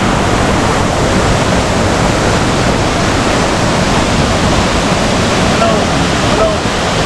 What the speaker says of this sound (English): It does look quite strong, the river